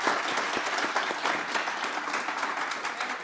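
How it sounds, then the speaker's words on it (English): An audience at a career-change panel applauds the panelists, continuous even clapping throughout at a moderate level with no voices on top. "Let's give them a round of applause for their"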